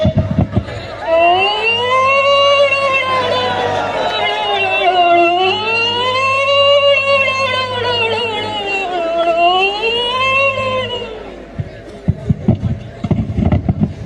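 During a student stage skit about blood donation and a road accident, an ambulance siren wails loudly in slow, repeated rising and falling sweeps for about eleven seconds, then cuts off into brief clattering stage noise.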